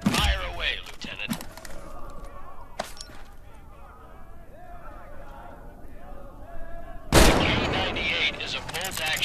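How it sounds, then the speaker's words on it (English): A Karabiner 98K bolt-action rifle in Medal of Honor fires a few sharp, loud shots spaced several seconds apart, with a big blast near the end, over a low ambient rumble and some voice. "Grab this carabiner 98K rifle with your left or right hand"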